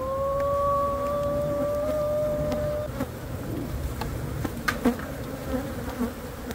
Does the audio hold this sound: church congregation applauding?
no